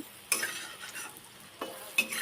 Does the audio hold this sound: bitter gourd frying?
yes